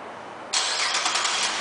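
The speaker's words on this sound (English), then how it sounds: "and the car turns right on." A 2010 Buick Enclave CXL engine starts by remote start, abruptly, and settles into a steady, fairly loud idle after a moment of quiet background hum.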